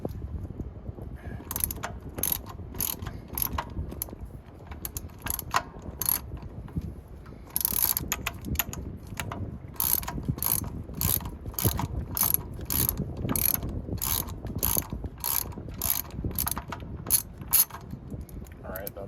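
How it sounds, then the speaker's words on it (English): Ratchet wrench with a 10mm socket clicking steadily while loosening bolts on a Suzuki DR650 motorcycle, during chain and sprocket work; rapid bursts of close, sharp pawl clicks repeat through the whole stretch with no talking. "let's go ahead and get that 10mm socket on and begin removing"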